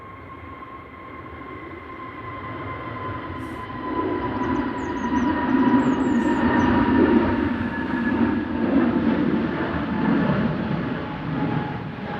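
An EasyJet Airbus A320-200 begins its takeoff roll at gusty Manchester Airport, with steady engine whine tones under a rumble that builds in loudness and stays strong, moderately distant.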